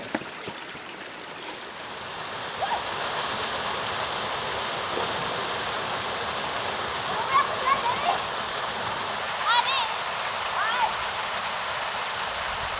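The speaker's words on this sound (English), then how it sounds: "The Bokong waterfalls," Steady, dense roar of falling water from the Bokong waterfalls in Sagada, Philippines fills the scene, with a few faint higher calls poking through near the end.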